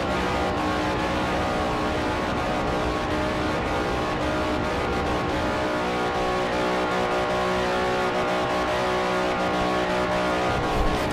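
Australian V8 Supercars racing in Forza Motorsport 4, a constant loud roar of engines revving and straining at high speed, with no break from start to finish.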